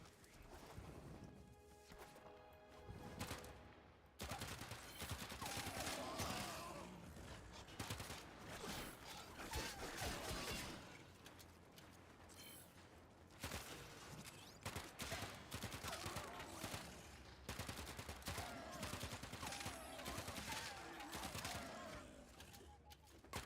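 Bursts of video game gunfire crackle repeatedly through a shooter match as enemies are picked off, loud dense volleys with brief pauses and crashing impacts filling most of the stretch.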